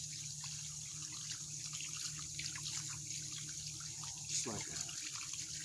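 Water hose running over a black drum fish fillet being washed outdoors, a steady close hiss and splash of flowing water while someone speaks briefly.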